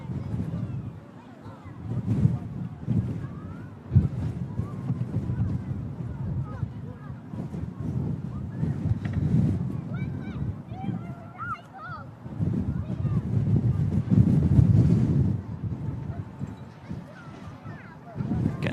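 Strong crosswind buffets the microphone at Manchester Airport, a low rumbling roar that surges and eases throughout, with someone talking over it.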